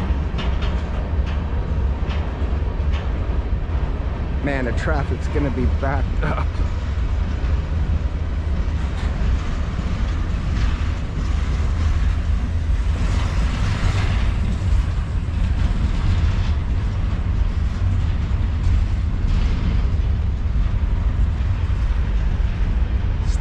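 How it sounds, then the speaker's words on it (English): A long CSX freight train rolls past close by, a loud, steady rumble of wheels and cars that continues throughout with a brief horn-like tone early on; someone speaks briefly over it. "That's a long train."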